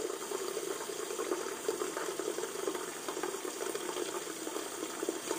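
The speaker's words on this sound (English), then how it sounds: "So first, I just start running some water" Water runs from a bath tap in a steady, even rush that continues unbroken throughout, with no voices.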